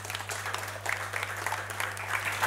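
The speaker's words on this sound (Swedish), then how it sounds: "Vi ger dem alla en applåd tycker jag." Audience applause at a panel talk event at a bar venue, moderate scattered clapping that carries on steadily throughout over a constant low electrical hum.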